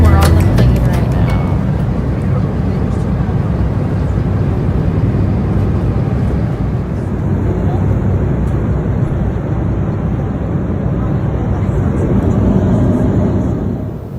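Steady, broadband roar fills the cabin of a passenger plane during a 2019 trip to Walt Disney World, a constant engine and air rumble with faint voices blurred underneath.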